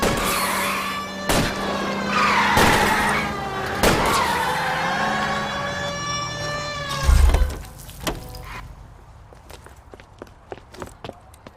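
A car being rammed and spun out during a car chase in the video game LA Noire: an engine drone with rising and falling tones, heavy thuds of impact and a tyre skid, then fading rattles.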